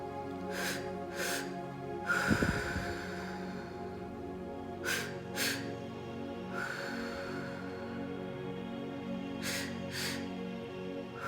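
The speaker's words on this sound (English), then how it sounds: "you can pause between the last exhale and the first inhale" Slow, deep breathing during a guided meditation breathing exercise: drawn-out inhales and exhales repeat at an unhurried pace, close and soft, over a continuous low ambient drone with no talking.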